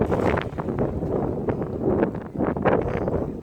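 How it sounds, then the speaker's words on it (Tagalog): Strong wind during a low-pressure weather system buffets the microphone steadily, a loud continuous rumble with gusty swells and no voices. "sobrang lakas ng hangin"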